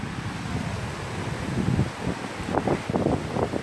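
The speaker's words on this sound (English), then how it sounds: "Excuse the wind, as usual it is windy." Steady wind buffets the microphone outdoors at a UK bottle-digging site with a low rumbling roar, gusting harder in places, with a few faint rustles toward the end.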